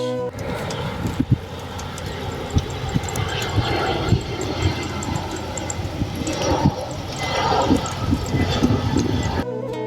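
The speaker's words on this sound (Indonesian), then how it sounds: "Satu-satunya kebisingan adalah suara pesawat yang akan lepas landas." A steady, low roaring aircraft engine rumbles throughout as a plane takes off from Juanda Airport, Sidoarjo, fairly distant and constant, with faint scattered background noise.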